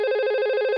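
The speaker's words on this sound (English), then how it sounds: "Yeah, it's ringing." A telephone ringback tone on a VoIP call, a steady electronic warble with a fast trill, clear and alone throughout.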